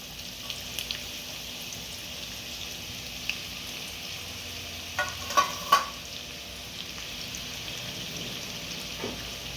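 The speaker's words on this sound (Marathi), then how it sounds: "तेल तापलं की आपण त्याच्यामध्ये हा बारीक चिरून घेतलेला कांदा टाकून घ्यायचा आहे" Finely chopped onion frying in hot oil for a spicy mutton sukka masala gives a quiet, steady sizzle, broken by a few soft clinks and scrapes of stirring partway through.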